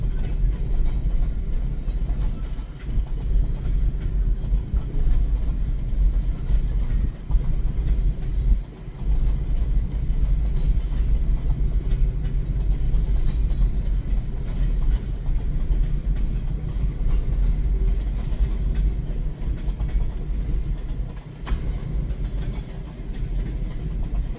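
An E&LS freight train in Wisconsin rumbles past steadily for the whole stretch, a continuous low roar with faint clacking of wheels, no voices.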